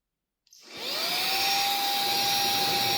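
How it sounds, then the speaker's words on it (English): Vacuum cleaner fitted with a blower attachment, used to clean a model railway layout, switches on after a brief silence and spins up to a loud, steady, high-pitched whine that keeps running. "we take the vacuum end off of there, put the blower bit on that bit"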